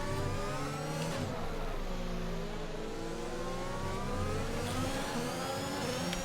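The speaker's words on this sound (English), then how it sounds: "Oh, it's the Aston Martin safety car." Aston Martin safety car in the F1 2021 racing video game at the French Grand Prix, a steady mid-pitched engine drone with a whirring tone, held at a constant level throughout.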